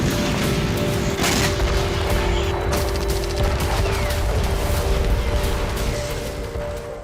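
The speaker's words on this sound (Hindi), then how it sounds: "पुतिन ने भी चीन दौरा खत्म करने के साथ ही यूक्रेन के ओडेसा रीजन को बम, गोला बारूद और मिसाइलों से पाट दिया" Bombing, shelling and missile strikes on Ukraine's Odesa region seen in news footage, a continuous loud barrage of blasts and rapid gunfire-like cracks with a steady tone running underneath.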